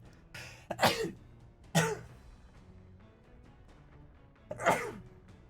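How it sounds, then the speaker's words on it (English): Three sharp, explosive sneezes burst out in quick succession, loud and close, with quiet pauses between them. "that was a crazy sneeze"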